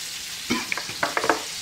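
Soft frying hiss of thin burgers in a pan, punctuated by a few brief clatters and scrapes, close by with no talking.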